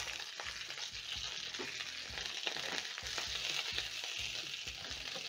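Homemade spicy meatballs frying in a pan, a steady close sizzle of hot oil with faint stirring scrapes throughout, no voices.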